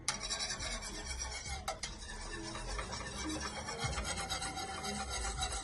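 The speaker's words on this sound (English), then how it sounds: "Then we're going to add our butter. And allow the butter to melt." Butter melting into oil in a hot pan while making a garlic honey sauce, giving a steady, close rough crackle and faint sizzle that runs unbroken throughout, with no talking.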